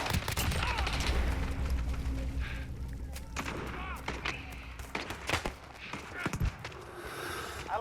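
Bursts of video game gunfire from Battlefield 5 or Call of Duty Modern Warfare, sharp shots and volleys scattered over several seconds amid a busy battle ambience, with voices talking over it.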